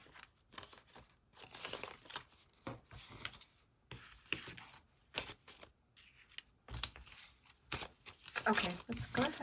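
Paper cash bills are handled and counted out of budget envelopes, close crisp rustling and flicking in irregular bursts with quiet pauses between, and faint murmured speech in places.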